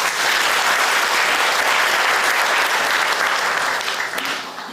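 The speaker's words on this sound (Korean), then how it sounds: "우리 박수 한번 해주십시오." A church congregation claps for the church elders in a sustained, dense round of applause filling the room, loud and even before easing slightly at the end.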